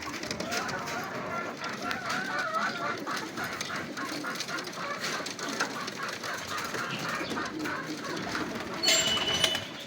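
Classic racing homer pigeons coo softly in a loft, with low throaty calls, wing flutters and shuffling, fairly quiet and close, over a steady background rustle.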